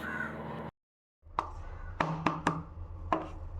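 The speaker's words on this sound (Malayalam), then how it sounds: "ഇതിനായിട്ട് ഞാനൊരു പതിനാറ് പതിനേഴ് അല്ലി വെളുത്തുള്ളി എടുത്തിട്ടുണ്ട് ഇനി അതൊന്ന് ചതച്ചെടുക്കാം" About sixteen or seventeen garlic cloves are crushed. After a short silence comes a run of about six sharp, hard knocks, close and fairly loud, spaced unevenly with brief pauses between strikes.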